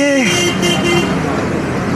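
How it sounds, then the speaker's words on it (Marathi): A water tanker truck pulls up and gives two short, loud horn toots close by, over a rumbling engine and nearby voices. "या गाडी पण आली आपली."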